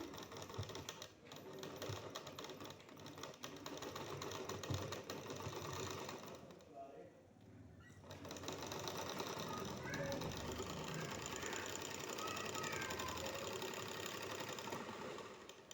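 A sewing machine stitches pleats onto an embellished suit, rattling quickly and continuously, then pausing briefly midway before running on at a steady pace.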